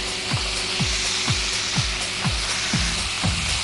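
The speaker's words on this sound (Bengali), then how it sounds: "একদম শুকনা শুকনা ভাজতে হবে, আমরা যেরকম ভাজি করি ঠিক ওই রকম করে ভাজতে হবে।" Chicken, zucchini and tomato stir-frying dry in a pan, with a steady sizzle and regular scraping spatula strokes about every half second, close and even throughout.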